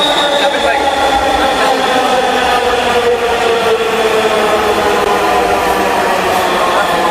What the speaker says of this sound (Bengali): ইতিমধ্যে কিন্তু ট্রেন চলে এসছে মেট্রো রেল স্টেশনের